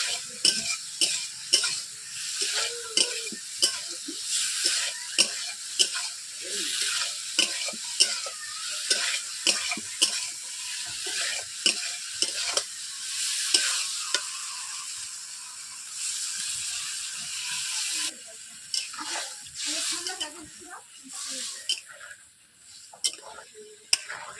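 Pointed gourd and potato pieces cooking in a kadai after water is added make a continuous sizzle and bubbling, broken by frequent scraping and clattering stirs of a metal spatula, close and fairly loud.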